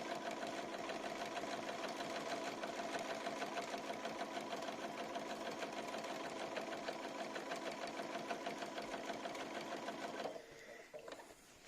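A sewing machine fitted with a SuiSei A9S binding attachment runs steadily at speed while binding a quilt, a dense rapid mechanical whir and needle clatter close up that stops abruptly near the end.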